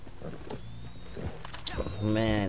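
A horse in the video game Red Dead Redemption 2 gives a loud, drawn-out neigh near the end, with a harmonic whinny. Earlier there are faint rhythmic hoof sounds and ambient game noise.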